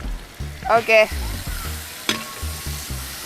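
Sliced onions fry in a pan in a toddy-shop kitchen, a close, steady sizzle with occasional stirring and a brief voice speaking over it.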